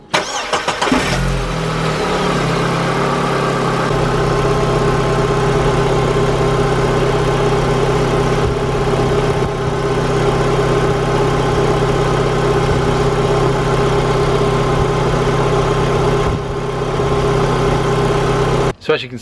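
A Vauxhall Corsa 1.8 engine idles steadily after a brief start-up, a close, loud, even hum held for the whole stretch with no talk over it.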